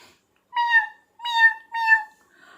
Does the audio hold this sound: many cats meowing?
yes